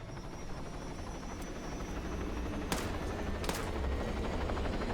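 A continuous video-game helicopter rotor drone fills the scene, joined by a couple of sharp gunshot-like cracks midway.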